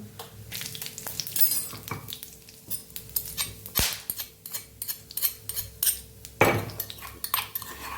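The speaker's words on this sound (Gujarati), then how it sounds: "અડધી ચમચી જેટલું આપણે જીરું ઉમેરશું" Cumin seeds crackle and pop in hot oil in a wok with whole cloves, cinnamon and star anise, a quiet, irregular run of sharp sizzling clicks and spits with occasional louder bursts.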